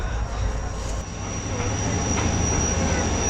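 The Shalimar Express passenger train runs at night with a loud, steady rumble of wheels on the rails and a faint high squeal. The sound is close and continuous and comes from inside the moving train.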